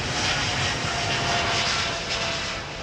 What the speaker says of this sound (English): Nice, noisy 777.